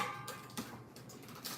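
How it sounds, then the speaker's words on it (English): Ice cubes dropped into a plastic water bottle give a few sharp, fairly faint clinks and taps spaced out over a second and a half, with no one talking. "Put the ice cubes in the water bottle very loudly."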